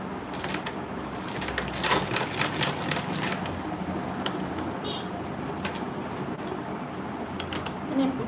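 Sewing machine stitching a mini grocery tote bag, a steady rapid mechanical clatter running continuously up close, with faint bursts of louder ticking.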